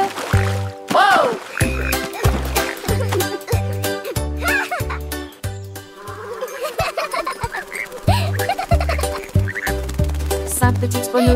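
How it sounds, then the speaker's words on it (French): Frogs croak in a children's song, rhythmic cartoonish croaks repeating in a steady beat under bright sung melody and music, fairly close and prominent throughout. "Puis ils coassèrent une chanson et la nuit devint grise."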